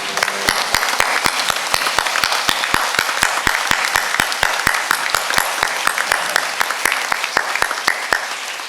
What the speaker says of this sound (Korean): 하나님께 영광의 박수 올려드리시겠습니다